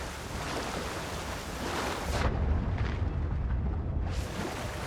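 A waterfall in the video game Avowed, heard as a broad, steady rushing roar of falling water that briefly dips and thins in the middle before surging back, with no talking.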